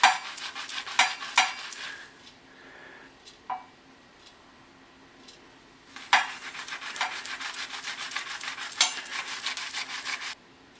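A greasy oven rack being rubbed by hand in a bath of bicarbonate of soda, giving bursts of close, scratchy scrubbing strokes with a quieter pause in the middle before the rubbing resumes, with no talking.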